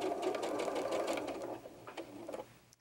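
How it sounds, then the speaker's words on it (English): A sewing machine stitches quilt fabric on the diagonal at a quarter-inch seam, running in a steady close whir that slows and stops near the end. "So while you're sewing, go ahead and just make sure that they line up correctly."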